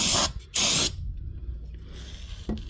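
Brake cleaner sprayed around the engine after an oil change on a 2019 Nissan Frontier SV pickup: two loud, close aerosol bursts in quick succession, then quiet with a faint short hiss near the end.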